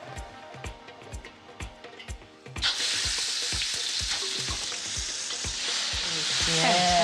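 Chili paste frying in a pan for an Indonesian dish: a steady bright sizzle swells in after a few soft stirring taps, then keeps hissing loudly with occasional scrapes of stirring.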